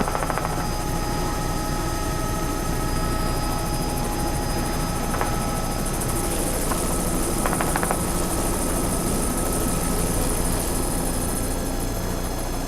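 Helicopter in flight over volcanic country near Albuquerque, heard from inside the cabin as a steady, loud, close rotor and engine drone with a constant whine that holds throughout and never lets up.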